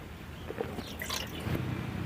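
A cup of water poured into a bowl for poori dough, a soft close splash and trickle with a few drips, fairly quiet over a low background hum.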